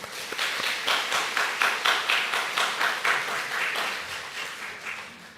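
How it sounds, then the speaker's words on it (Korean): Church congregation applauds in a rhythmic, even round of clapping that holds steady for several seconds before easing slightly, moderately loud in a large room. "우리 서로가 박수로 격려했으면 좋겠습니다."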